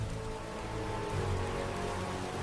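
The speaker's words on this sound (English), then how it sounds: "Lightning tore through the sky, and then rain poured down like a waterfall." Steady, dense hiss of heavy rain pouring down, a continuous broadband wash with no gaps and a low rumble underneath.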